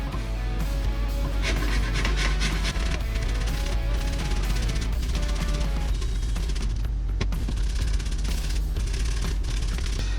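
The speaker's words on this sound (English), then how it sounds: "get our trusty grater and our zucchini and our 2 carrots, and we've got to give them a grate up" Zucchini and carrots rubbed over a kitchen grater in a home kitchen, a dense, continuous rasping scrape that fills the whole stretch loudly and closely with no pauses.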